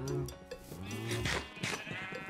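Several sheep bleat in overlapping, wavering calls inside the video game Minecraft, close and fairly loud over about two seconds.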